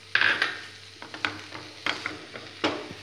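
Chicken roll filling is stirred in a pan right after soy sauce goes in, with a soft sizzle under a handful of scraping, clinking stirs from a spatula against the pan.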